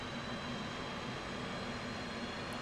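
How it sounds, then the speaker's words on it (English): F/A-18C jet engine starting up in a flight simulator, a steady, even roar and whine that holds constant throughout, with no voices. "and light the right engine."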